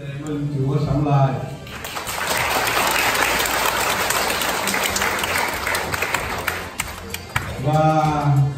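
Applause from a church congregation at an Easter celebration swells for several seconds, a dense sustained wash of clapping between stretches of speech at the start and end.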